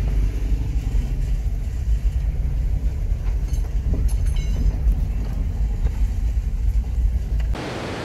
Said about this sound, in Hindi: हम अपनी गाड़ी में जा रहे हैं